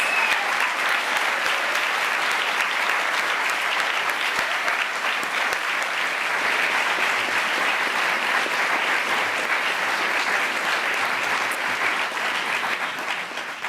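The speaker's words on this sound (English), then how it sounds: "please join with me again in giving them all a round of applause" Steady, dense applause from a large audience at a human rights awards ceremony fills the whole stretch, loud and continuous with no speech on top.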